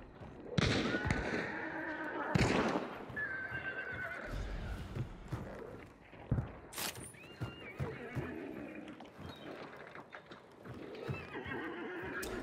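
Horse in a video game whinnying loudly and galloping with clip-clop hoofbeats, mixed with bursts of game effects and brief talk.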